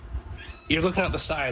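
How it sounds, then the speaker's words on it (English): A small cat meows a few times in quick, wavering cries that overlap with a person talking nearby. "I think that was a cat."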